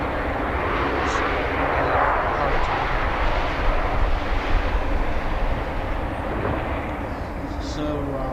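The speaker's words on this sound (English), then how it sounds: "Got another arrival coming in here." A jet airliner arrives at Philadelphia airport, its engine roar loud and sustained throughout, rising slightly mid-way, with no speech over it.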